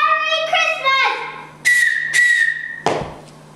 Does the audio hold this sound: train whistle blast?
yes